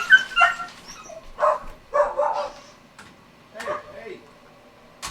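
Puppies knocked loose from a toppled cage bark, yip and whimper in short, lively bursts, several close yelps spread across a few seconds with brief gaps between them.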